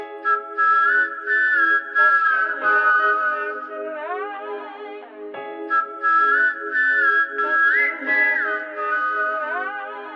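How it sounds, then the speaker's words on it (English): A whistled melody from the opening of a song rings out loud and close: a bright, sustained tune with gliding pitches and short phrases, repeating across the stretch with no talking over it. "here's the whistle"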